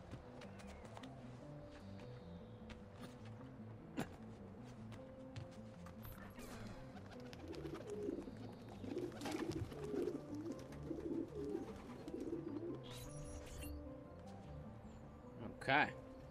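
Pigeons coo softly at a pigeon coop in the Assassin's Creed 2 video game, low warbling calls rising in the middle amid faint game ambience, clopping hooves and distant voices.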